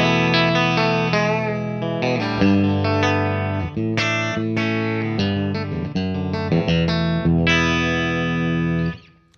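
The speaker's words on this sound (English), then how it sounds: "let's take a look at what that sounds like, and I'll start out with the gain all the way down" An electric guitar runs through a homemade overdrive pedal with the gain turned all the way down, ringing out a steady run of clean, full chords and notes up close for about nine seconds before cutting off.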